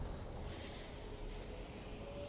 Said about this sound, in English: We might be able to hear the wind a little bit.